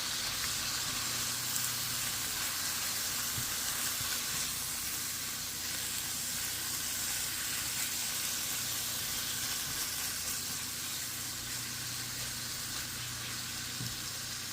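Tomato sauce being stirred into chilli pasta in a hot pan, with a steady, dense sizzle that holds at an even level throughout and no talking.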